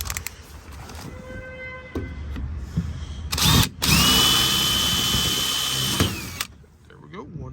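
A power drill drives self-tapping screws into a metal latch guard, a loud steady whine held for several seconds and then cut off, after shorter bursts, with brief clicks and handling noise around it.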